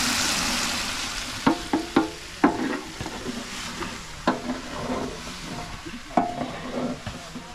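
Buffalo meat bhutuwa sizzles in a pan while a utensil stirs and scrapes it in repeated sharp strokes over a constant frying hiss.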